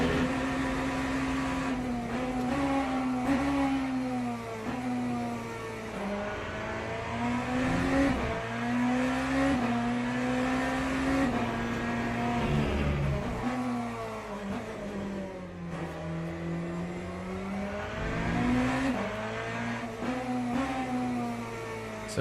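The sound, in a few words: race car driving at the limit in the video game Le Mans Ultimate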